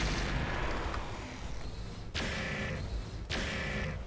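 Heavy weapons fire from a RogueTech BattleTech mech battle game: a dense, loud wash of booming shots and explosions, with two sudden fresh blasts landing on top of the rumbling roar.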